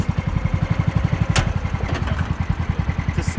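Engine of an infield drag machine running close by, a steady low chugging idle with rapid even pulses and a brief sharp clank partway through.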